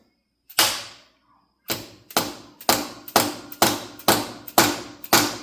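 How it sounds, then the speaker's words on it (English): Hammer rapping on the stuck valves of a TD6 engine: one isolated strike, then a steady run of about eight sharp metallic taps with ringing decay, close and loud. "let's hit these valves and make sure that all the valves open"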